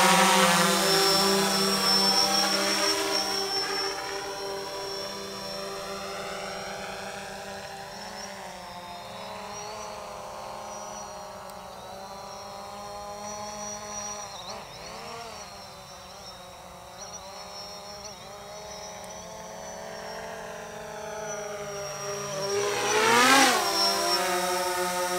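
A Phantom 4 Pro quadcopter drone climbs to altitude, its steady high-pitched rotor whine holding throughout with shifting harmonic tones as it gains height, rising louder again near the end.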